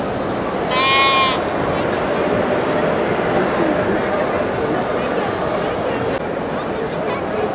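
A lamb at a fair beauty contest lets out one loud, wavering bleat near the start, then a steady murmur of background noise and a voice follows.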